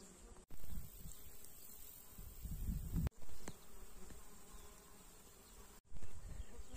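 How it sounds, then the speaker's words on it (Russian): Insects buzz continuously close by, a dense humming drone of midges, horseflies and mosquitoes, broken by a few brief gaps. "под аккомпанемент мошкары, оводов, комаров"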